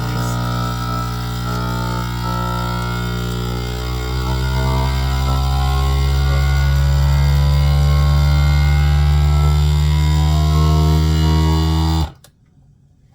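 A loud, steady mechanical whirring drone from a vacuum sealer sucking air out of a food storage bag runs for about twelve seconds, its pitch shifting slightly as it pulls, then cuts off.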